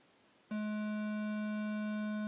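A hollow, reedy square wave tone from an Arturia MiniBrute 2 synthesizer switches on abruptly and holds steady and loud, a continuous electronic drone with strong overtones.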